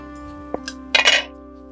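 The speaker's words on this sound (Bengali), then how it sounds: "হ্যাঁ, এবার কড়াইটা বসিয়ে দাও।" A wok (kadai) set down on a stove for frying hilsa, heard as a brief metallic clink and then a short clattering scrape close by over a steady low hum, with no talking.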